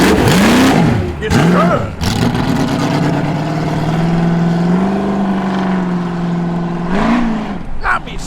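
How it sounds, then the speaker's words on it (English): A Holden Torana arrives at a Sydney car show with loud revving, sharp throttle blips climbing and falling, then a steady deep rumble before a last rev, while a person speaks briefly. "Listen to this animal coming, ladies and gents, the Tirana."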